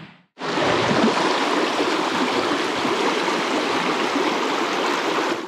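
The West Fork of the Deschutes River rushes steadily with a loud, broad, constant flow of water heard close by and alone after a brief start.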